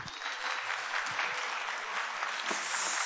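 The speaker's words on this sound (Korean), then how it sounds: "박수로 맞아주십시오, 여러분." Concert audience applauding at a neighborhood music gathering in Seongsu-dong, a steady dense clapping wash at moderate volume that sustains evenly throughout.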